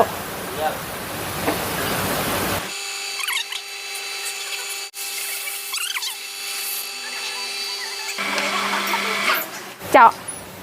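An electric drill boring a hole in a fuel tank cap, a steady whining motor hum running for several seconds in the middle, with people talking before and after it.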